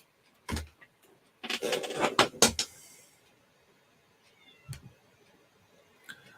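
A house cat meows in a few scattered, short cries, with a louder cluster of sharp sounds in the middle and quieter faint noises afterward, against a very quiet background.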